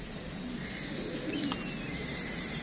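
Pigeons coo in a steady low murmur against a constant broadband background hiss, with a few faint chirps and no voices.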